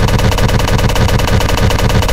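The Hex Spitter gun in a video game fires in a loud, rapid automatic burst, a dense, evenly spaced rattle of shots running without pause for about two seconds, up close and alone.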